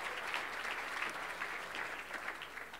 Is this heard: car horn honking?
no